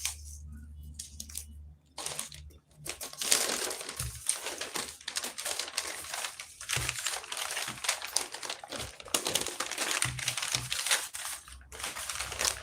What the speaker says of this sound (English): So my paper is starting to tear.